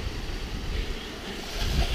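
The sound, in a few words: fast-moving stream at water crossing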